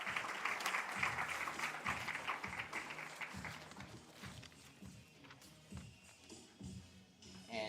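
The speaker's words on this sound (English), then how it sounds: "Please clap it up for the Coach of the Year at Spencer Detrich Wadley." Audience applause at a live school-district sports awards ceremony for the Coach of the Year, dense and loud at first, then thinning into scattered claps, shuffling and footsteps as it dies down.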